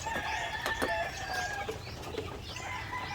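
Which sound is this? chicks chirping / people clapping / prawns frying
chicks chirping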